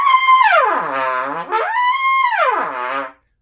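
Solo trumpet sweeping in smooth glissandos between pedal D and high D, sliding down low, back up and down again over about three seconds, close and clear with no other sound.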